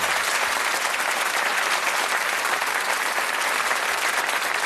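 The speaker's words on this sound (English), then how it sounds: "Give them a good round of applause." Studio audience at a British darts game show applauds the contestants, a loud, dense, continuous round of clapping that holds steady throughout with no talking over it.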